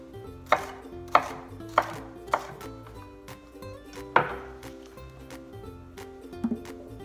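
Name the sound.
chef knife dicing food on a cutting board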